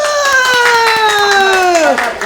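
Children in an improvised drama class clap for classmates, scattered light hand claps beneath a sustained, high, sliding voiced cheer or exclamation that falls away near the end.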